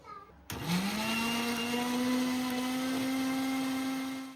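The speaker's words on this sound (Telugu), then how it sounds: "మామిడి పండు ముక్కలు అన్ని కూడాను ఇంక మిక్సీ జార్లో వేసుకున్నాను" Mixer jar blending ripe mango pieces into a smooth paste, the motor starting abruptly and holding a loud, steady high whine for several seconds before beginning to wind down.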